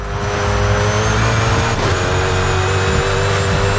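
A Koenigsegg Jesko hypercar in Forza Horizon 5 drones at steady high revs through bends, its engine a loud sustained buzzing whine with slight pitch dips and faint tire noise.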